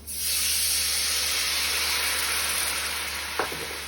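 Water poured into a hot pan of curry goat seasoning bursts into a loud, sustained sizzle and steamy hiss, with a small utensil clink near the end.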